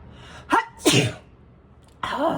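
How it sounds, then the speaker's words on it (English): A single loud sneeze with a sharp intake of breath before it, close up, followed by a short exhale. "I've been waiting for that sneeze for so long"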